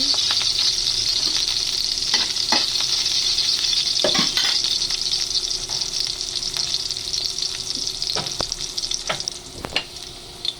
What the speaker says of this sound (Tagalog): sasatayin natin muna ang ating bawang